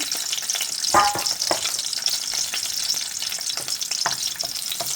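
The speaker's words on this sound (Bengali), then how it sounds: "প্রথমে আমি দিয়ে দিব ফালি করা দু টুকরা রসুন" Sliced garlic frying in oil in a home kitchen pan while a fish curry with ash gourd is started, giving a steady close sizzle with a few sharper crackles and stirring clatter, no talk.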